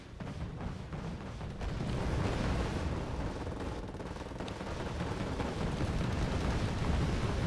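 Napalm dropped by an F-86 jet in Wargame Red Dragon, a broad, continuous roaring rumble of fire and blasts that swells and holds loud throughout.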